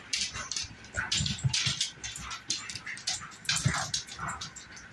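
An excited dog at home whimpers, yips and lets out short barks in a restless, irregular run, fairly close, with faint voices in the room.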